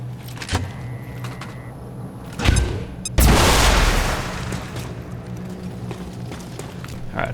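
A bomb goes off in the XCOM 2 video game: a few clicks and a thud, then a loud, sudden burst that decays into a long rumbling hiss.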